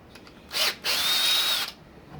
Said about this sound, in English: Just drill these out over the balcony so I don't get a whole lot of aluminium swarf here.